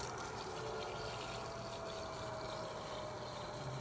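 Steady, faint hum and watery whoosh of a BMW electric coolant pump running its bleed cycle, continuous and unchanging throughout, no voices.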